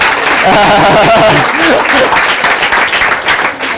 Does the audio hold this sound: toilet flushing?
no